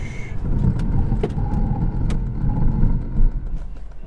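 A 2022 Opel Astra hatchback on the road, steady engine and tire roar heard from inside the cabin at speed, with a few light clicks and rattles over the continuous drone.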